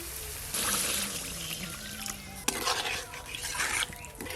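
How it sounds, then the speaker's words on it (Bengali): Water is poured into spices frying with chopped tomato, salt and sugar in a pan over a clay stove, giving a loud, steady rush and hiss that breaks off, then surges again with scraping pot clatter. "এবার পরিমাণ মতো জল দেব"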